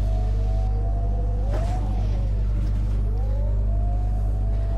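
A city bus in Omsi 2 strains to climb a hill, its engine droning low and steady with a slowly rising, wavering whine, close and continuous throughout.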